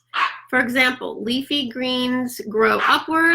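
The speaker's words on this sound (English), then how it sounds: "That's my dog barking if you hear." Dog barking intermittently in the background, short yips and barks mixed under continuous close talk.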